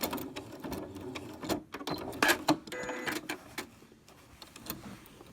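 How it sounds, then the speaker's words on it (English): A sewing machine backstitches to lock the stitches on a fabric baby burp cloth, with short bursts of mechanical whirring and clicking, stops and starts, and quiet handling noises in between, close and moderate in volume. "I am going to backstitch just to lock the stitches."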